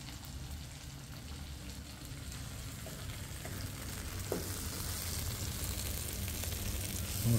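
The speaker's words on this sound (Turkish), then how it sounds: "Az az kaynıyor ama tam tam kaynamıyor." Steady low bubbling and faint sizzle of a pot simmering on a wood-fired kitchen stove, continuous and fairly quiet, with an occasional soft click near the end.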